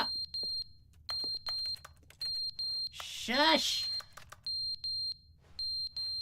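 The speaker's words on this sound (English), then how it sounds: "Go away, beeping!" Piercing electronic alarm from The Stanley Parable Ultra Deluxe, sounding in repeated bursts of rapid high beeps separated by short gaps, with someone talking and shouting over it.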